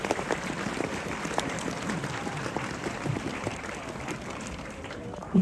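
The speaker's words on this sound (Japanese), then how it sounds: "今一度盛大な拍手をお願いいたします。" A large crowd claps at the Yasaka Shrine Setsubun festival in Kyoto after a dance offering, with dense, even applause that holds steady throughout.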